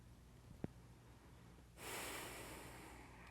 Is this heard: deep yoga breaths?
yes